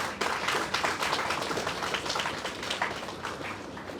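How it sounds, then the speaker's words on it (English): An audience applauds Dr. Jagat Shah, a business consultant, at a professional career talk: dense, steady clapping from many hands fills the room at close range, with no voices over it. "a big round of applause for Dr."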